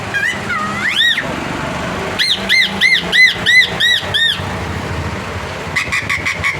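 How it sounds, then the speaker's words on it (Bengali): A pet parakeet gives a rapid run of shrill, rising-and-falling squawks, about a dozen in quick succession, loud and close, with a short pause before more calls. "সে টিয়া পাখি কীরকমভাবে ডাকছে দেখুন"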